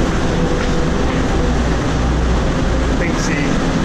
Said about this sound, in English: apparently we're running for the train.